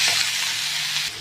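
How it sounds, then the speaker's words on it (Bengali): Steady close sizzle and hiss of potatoes and onion stalks frying in a pan, easing slightly at the very end, with no voices. "এখন অনেকটা ভাজা হয়ে গেছে আর একটু ভালো করে ভেজে নেব।"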